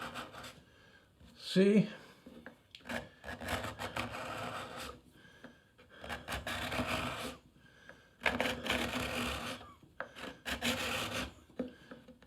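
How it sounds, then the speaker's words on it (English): A card scraper rasps over a rippled, washboard-textured wood surface in several bursts of rubbing strokes separated by short pauses, close and fairly loud, with a brief spoken word early on. "you can hear it rubbing over the washboard surface"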